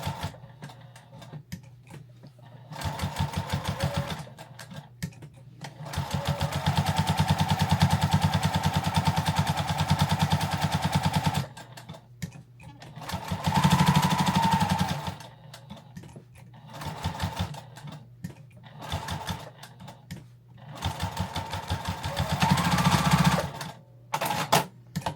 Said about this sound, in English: Put the needle down. And we're just going to back stitch a couple right at the beginning